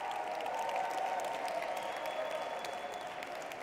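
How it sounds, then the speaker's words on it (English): Sustained applause from an audience at a 5LINX business training event in Atlanta, a steady wash of clapping at moderate distance with faint crowd murmur and no cheering standing out. "Let's give them a round of applause."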